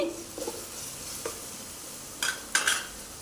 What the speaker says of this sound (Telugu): ఇలా ఫ్రై చేసుకోవాలండి టమాటా పేస్ట్ని ఫ్రై అవుతుంది కదండి